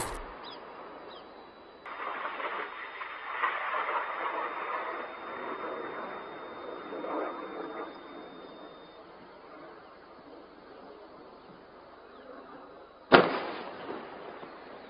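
Missile strikes and explosions in Israel: a steady, rumbling broadband roar swells and lingers for several seconds, then a single sharp, loud blast cracks out near the end and quickly fades.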